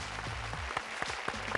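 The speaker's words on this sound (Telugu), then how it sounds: "క్లాప్స్ కొట్టండి" Studio audience applause on a Telugu television game show, a short burst of clapping heard at moderate distance over a low hum, without talk.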